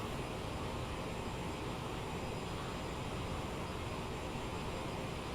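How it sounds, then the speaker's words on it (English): Aerosoft CRJ-700 Lufthansa jet with rear-mounted engines in Microsoft Flight Simulator, heard as a soft, steady broadband cabin hum and engine hiss that holds constant and fairly quiet throughout. "It is quiet aircraft, it is very quiet. I mean, the engines are at the back"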